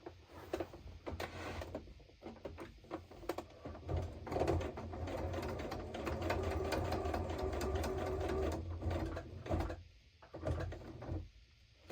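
A sewing machine runs in bursts of stitching through fabric for a decorative pillow project, with short pauses and mechanical clicks between runs and no talk.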